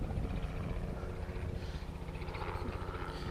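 A steady low thumping engine drone of a helicopter passing overhead a city fishing spot, continuous and fairly loud throughout with faint background activity.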